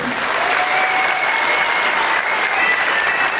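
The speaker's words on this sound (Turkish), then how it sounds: "tekrar bir alkış alabilir miyiz?" Audience at a children's ballet recital applauding, a dense, even roar of clapping that stays loud and continuous from start to finish.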